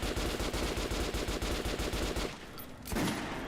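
Rapid automatic-sounding gunfire in the video game Metro Last Light, loud and steady bursts for about two seconds, then a quieter pause before another blast.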